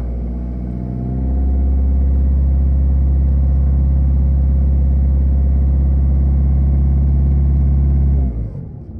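A car engine with a misfiring cylinder 2 is revved and held, giving a loud, steady droning roar with a slightly uneven pulse before it drops away at the end.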